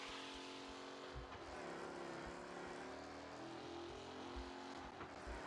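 Engine of a fast car driven in the game Mafia: Definitive Edition, a steady loud roar with shifting pitch as it speeds along, alone without talk.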